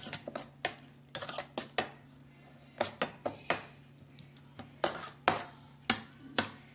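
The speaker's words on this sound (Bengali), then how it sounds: "দিয়ে খুব ভালো করে আমি চিংড়ি মাছের সঙ্গে এগুলোকে মাখিয়ে নেব।" Shrimp being mixed by hand with ground mustard-green chili paste, salt, turmeric and oil, heard as a steady series of quick, sharp clinks and taps against a bowl, close and moderately loud, with no talking.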